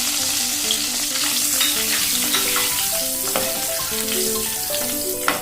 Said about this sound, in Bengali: এরপর আমি ফোড়নগুলো দিয়ে দেবো, তেজপাতা, দারচিনি, লবঙ্গ আর এলাচ।